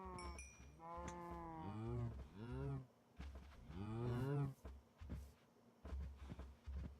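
A cow in a video game moos several times, long drawn-out lows with clear tonal calls separated by short pauses, fairly close and prominent with no talking.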